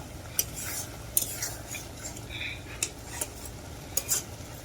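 Golda chingri (large prawns) being stirred and fried into a bhuna in a pan, with soft scraping stirs and a few sharp utensil clicks over a faint, steady sizzle.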